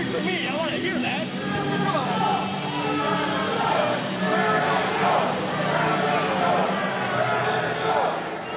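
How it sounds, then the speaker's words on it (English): Wrestling crowd at a community center event cheering for a wrestler, a steady roar of voices and babble sustained throughout, fairly loud and continuous. "Cheering for me. I want to hear that."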